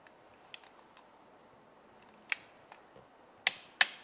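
A torque gauge clicks while an engine bolt is tightened in a car repair shop; a few sharp, isolated clicks sound close by over quiet room noise, with the last two loudest.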